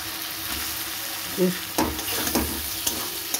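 Cauliflower and flat beans sautéing in spiced oil, a steady close sizzle broken by a few spoon scrapes and stirring knocks.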